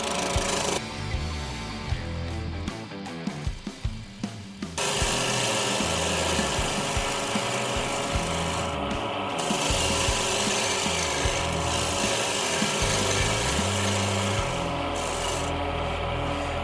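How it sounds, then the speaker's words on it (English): A 12 mm straight edge scraper rasps against a turning mimosa wood bowl on a lathe, with rhythmic scraping strokes over a steady motor hum, close and continuous. "Slip in my, my 12 mil straight edge scraper."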